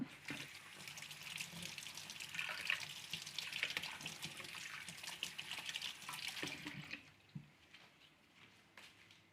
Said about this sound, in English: So just gonna wash my knife because there's still a lot of cutting.